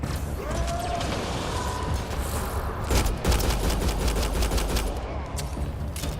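Sustained automatic gunfire in a Mass Effect: Andromeda combat scene, dense rapid bursts running loud and continuous throughout with mechanical clatter mixed in.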